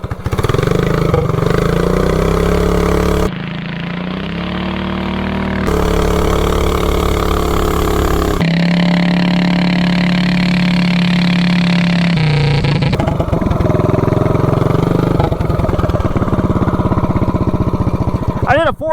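A 420cc big block minibike with a torque converter revs hard and accelerates, loud engine notes rising and dropping in repeated bursts with brief idle stretches between pulls.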